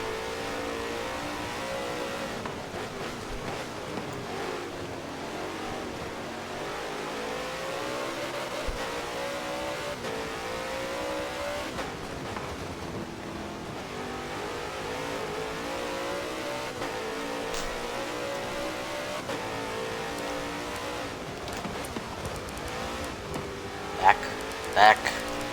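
Onboard race car engine at Brands Hatch during a sprint cup race: steady loud droning engine with rising and falling revs through gear changes, under continuous commentary.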